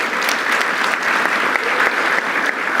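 Close, steady applause from a small group, a dense even patter of clapping hands that keeps up without a break for a few seconds.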